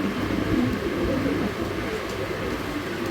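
A pair of young racing pigeons coos softly in low, rolling murmurs, close by over a steady background hiss, with no clear talk.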